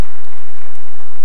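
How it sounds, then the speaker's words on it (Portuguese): Applause from the audience at a Brazilian police-themed public hearing, a short dense burst of clapping that fills the moment without any talk over it. "Uma salva de palmas, inclusive."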